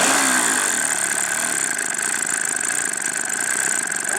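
A small RC plane engine buzzes steadily at high pitch as throttle is applied, a constant, fairly close whine with little variation and no talk over it.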